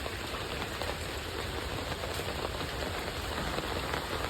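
Steady, dense rain falls on a village yard during a day-long downpour, a continuous close hiss with no voices over it.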